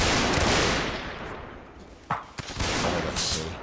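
Musket volleys and cracking bullets in a Mount & Blade North & South line battle, with a dense, loud roll of fire that fades and then returns in sharp, close cracks.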